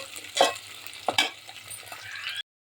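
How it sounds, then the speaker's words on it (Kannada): Onion, green chili and curry leaves fry in a pan for hotel-style upma, crackling with a soft sizzle while a spatula scrapes through them in two distinct strokes. "ಇವಾಗ ಇದು ಚೆನ್ನಾಗಿ ಫ್ರೈ ಮಾಡ್ಕೋಬೇಕು, ಚೆನ್ನಾಗಿ ರೋಸ್ಟ್ ಆಗಬೇಕು"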